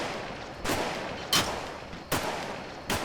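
Shots from a machine gun in the Arma 3 video game ring out as four loud, separate reports spaced roughly three quarters of a second apart, each with a short reverberant tail.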